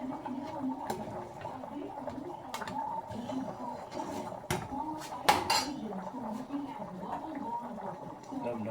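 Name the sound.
stirring chili dog macaroni and cheese in a pot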